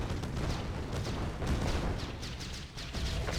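A Grand Cannon in a real-time strategy match fires repeatedly, producing a dense run of booming artillery blasts over a steady rumble, with no talk over the shots.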